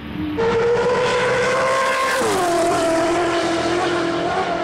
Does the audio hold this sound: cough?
no